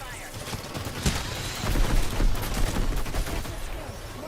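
Rapid bursts of video-game gunfire crackle loudly and continuously, dense and close, with a game voice faintly mixed in.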